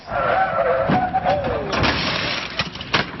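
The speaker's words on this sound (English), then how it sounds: "you hear a vehicle suddenly rev up, then this." A police truck's engine revs with a rising whine, then a bang and crunching impact noises follow, loud and close, with a few sharp knocks afterward.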